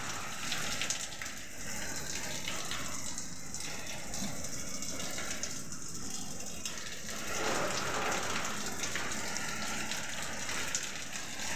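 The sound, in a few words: strong typhoon wind and rain in Muntinlupa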